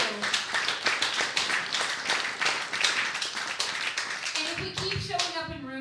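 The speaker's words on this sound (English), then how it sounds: "Yeah, clap for that." An audience at a student showcase claps steadily in a dense, lively patter for several seconds, then the clapping thins as a voice starts speaking near the end.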